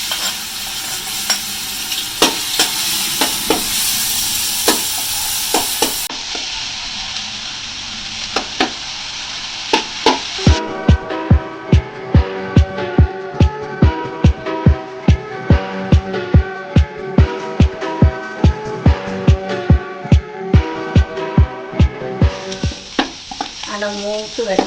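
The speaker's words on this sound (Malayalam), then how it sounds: "എണ്ണ ചൂടാവുന്ന നമുക്ക് ഇനി വെളുത്തുള്ളി ഇഞ്ചിയും കൂടെ അങ്ങോട്ട് ഇട്ട് കൊടുക്കാം." Garlic and ginger sizzle in hot oil in a pan, a steady loud hiss that drops in level partway through, then joined by a rapid, regular series of metallic stirring or scraping clinks close up.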